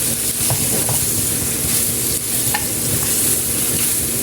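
Tenderized pork tongue sizzling in a pan for lengua asado, a loud steady frying hiss with soft stirring scrapes and clinks mixed in, close up and without talk.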